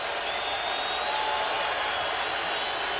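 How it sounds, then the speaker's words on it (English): Stadium crowd at a 2002 NFL football game between the Baltimore Ravens and Cleveland Browns, a steady roaring cheer from a large audience, dense and even throughout. "Crowd is back in it."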